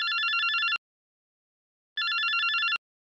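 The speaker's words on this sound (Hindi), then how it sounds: "आज खुद से फोन आने शुरू हो गए लोगों के" A telephone bell rings in two clear electronic bursts of a little under a second each, separated by a short silence, with no voices.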